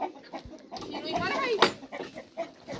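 A rooster clucking nearby, with short throaty calls and one sharper squawk, while people talk quietly in the background.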